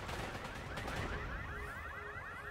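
Gunfire from a Kalashnikov in a vampire video game set in Prague, heard as rapid rattling bursts at a distance, fairly faint against steady background game noise, without talk.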